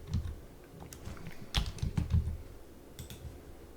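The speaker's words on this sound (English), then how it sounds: "So I'm just going to type in capital A." Keystrokes on a computer keyboard during steel framing drafting software work: a short run of soft, close clicks in an uneven rhythm, quiet and with no voices.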